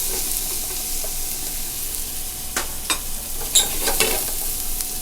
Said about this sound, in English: Now we're going to caramelize these onions till they're nice and brown